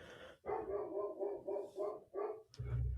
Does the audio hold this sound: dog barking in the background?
yes